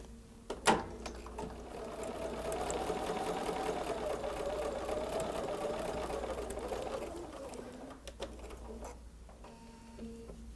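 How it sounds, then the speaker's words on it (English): A sewing machine stitches along a drawn line on fabric for a placemat, a fast steady mechanical chatter running for several seconds before stopping, with a sharp knock at the start and a few clicks at the end. "Now let's go ahead and go to our sewing machine. And we're just going to sew directly on that line that I just drew."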